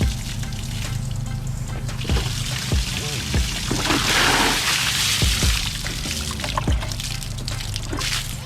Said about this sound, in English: Gotta let the water drain out.